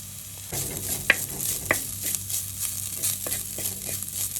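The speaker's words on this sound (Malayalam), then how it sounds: "ജസ്റ്റ് ഒന്ന് ലോ ഫ്ലെയിമിലിട്ടിട്ട് നമുക്ക് ഇതുപോലെ ഒന്ന് വഴറ്റി കൊടുക്കണം" Leftover puttu mixture with grated coconut being sautéed over a low flame in a pan, a soft continuous sizzle with intermittent scraping stirs and light crackles, close by and with no voices.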